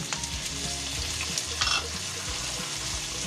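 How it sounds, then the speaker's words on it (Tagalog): Black beans are stirred into a pan of frying pork and tofu, giving a steady close sizzle with soft scraping from the stirring and no talk. "Ilalagay na po natin ang ating black beans."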